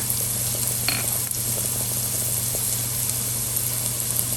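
Garlic sizzling in a pan alongside soft, cooked-down onions, a steady close frying hiss with faint stirring clicks and a constant hum underneath.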